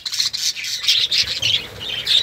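A yellow-faced bird squawks repeatedly in a breeding colony, loud rasping calls coming in quick close bursts with brief gaps between them.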